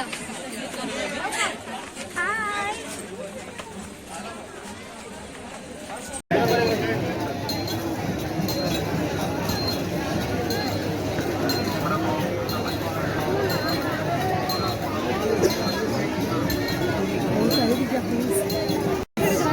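Dense crowd chatter fills a long pilgrimage queue at Ekvira temple on a busy Sunday, many voices babbling together with occasional clinks, quieter at first and then a steady, loud wash of overlapping talk.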